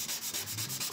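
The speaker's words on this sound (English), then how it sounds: "start sanding everything" Rhythmic sanding on wood for a homemade loft bed, steady back-and-forth strokes with a harsh, hissing rasp, close and fairly loud, no voices.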